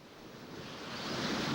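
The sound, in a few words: ocean waves crashing against the sea barrier in the Netherlands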